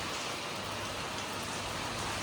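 Heavy rain falls in a steady, dense hiss with no breaks, loud and enveloping, and no voices are heard.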